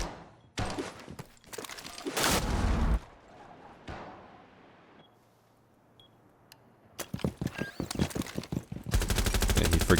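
Rainbow Six Siege gunfire with a player hip-firing through walls: loud bursts of automatic shots in separate clusters, with a quieter gap in the middle before rapid fire resumes and carries to the end.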